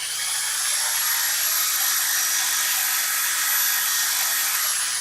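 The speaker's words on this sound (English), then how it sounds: "I'm using the bottom edge of the sander" A power sander works a turned wooden bud vase on a lathe, giving a steady high whine with a rough abrasive hiss, continuous and close for the full few seconds with no talk.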